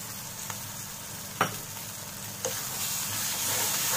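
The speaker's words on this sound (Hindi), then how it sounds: "और मसाले के साथ हम इसे दो मिनट और भून लेंगे" Masala frying in a pan with yogurt just added, a steady low sizzle with two brief sharper pops as it is stirred, close and alone.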